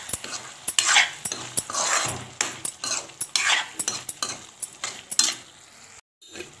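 A spoon stirs mushroom curry in a pan: repeated close scraping and clinking strokes with a low sizzle underneath, ending in a brief silence. No talking.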